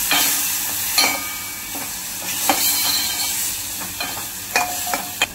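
Ground masala paste sizzling in a pan as it is sautéed for masoor dal amti, a steady close frying hiss broken by sharp scraping strokes of the spoon at irregular intervals.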